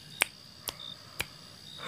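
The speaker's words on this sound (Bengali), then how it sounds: "খটাস খটাস করে দুটো আঙ্গুলে তুড়ি দিয়ে" A man snaps two fingers three times, each a crisp, sharp click spaced about half a second apart against a quiet background.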